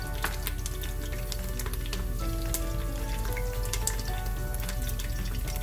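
Whole spices sizzle and crackle in hot oil at the start of a beef shank coconut cashew korma, with a steady, close frying hiss full of small pops and no talking.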